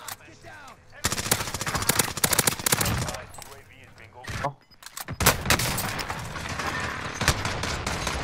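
Automatic weapons fire in a Fortnite match rattles in rapid bursts and single cracks, loud and close, with a short lull in the middle, while a player talks excitedly.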